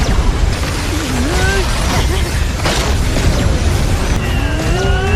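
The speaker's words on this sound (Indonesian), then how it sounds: "senjata meriam 9 mereka kembali terisi dan menembakkannya ke arah Hu Yuhou dan juga Wan Qing'er" A dense, continuous roar of cannon blasts and explosions in the animated series Soul Land 2, with rumbling low end, over which a voice speaks with sweeping tonal effects.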